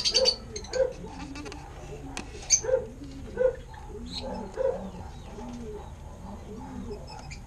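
A lutino male African lovebird in its cage gives short, repeated nasal chirps at a steady pace, fairly close, with a few sharper squeaks and faint background noise. Someone speaks now and then.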